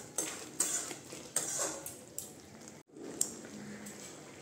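Spoon clinking and scraping in a pot while coriander leaves and garam masala are stirred into chana dal curry with soya beans, several quiet, close taps and scrapes alone.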